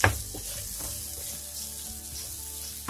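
Raw banana peel chutney mixture with salt roasting in a pan, a soft continuous sizzle and crackle close by, steady and uninterrupted for a few seconds without speech.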